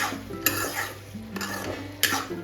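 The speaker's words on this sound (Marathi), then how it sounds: "मशरूम पण छान असे मसाल्यामध्ये परतून घेऊया आपण" Mushrooms being sautéed and stirred in a masala with kitchen king masala and fresh coriander, spoon scraping the pan in three firm strokes over a soft, steady sizzle, close and alone.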